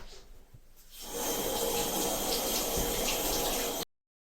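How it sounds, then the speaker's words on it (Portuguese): Hot water gushes steadily from a kitchen tap, a loud continuous splashing rush that starts after a second of quiet and runs alone until cut off. "Vamos abrir a torneira com água bem quente"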